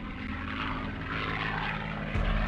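A WWII assault drone aircraft flies past with a steady, loud propeller-engine drone and a continuous throbbing hum, rising slightly near the end, with no talk.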